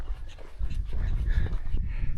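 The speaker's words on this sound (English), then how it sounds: "Just lots and lots of prairie dogs been following us." Prairie dogs call loudly along a trail near Custer State Park, giving repeated yipping barks over a steady outdoor rumble.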